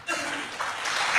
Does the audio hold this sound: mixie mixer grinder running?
no